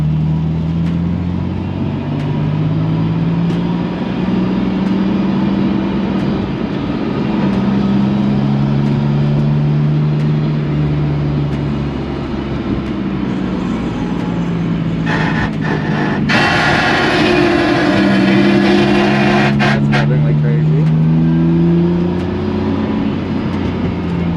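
A BMW E46 cruises around a race track with a loud, continuous engine drone whose pitch slowly rises and falls. A brief burst of rushing noise cuts in near the end.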